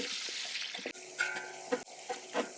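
Onions dropped into hot oil with cloves, cardamom and bay leaf, giving bursts of sizzling and stirring that come and go in short surges, fairly close and without voices.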